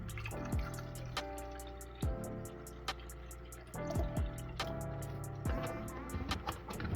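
Coffee is poured into a mocha shake with a liquid filling trickle and drips, broken by a few sharper splashes and faint ticking over a few seconds.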